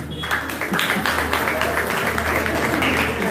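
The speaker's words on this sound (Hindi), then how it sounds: "पहले तो इनके लिए जोरदार तालियां" Audience applause for Swami Moolchand Jain at a meditation gathering, a steady wash of many hands clapping that fills the whole stretch at even loudness without a break.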